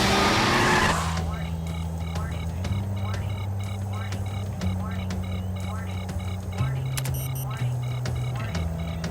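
Animated race cars speeding along a track in a cartoon racing episode, steady engine drones that shift pitch in stepped changes, with repeated squeaky chirps and sharp clicks over a continuous music-like bed.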